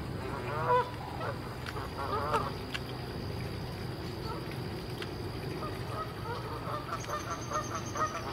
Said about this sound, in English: there are more geese over there, Canada geese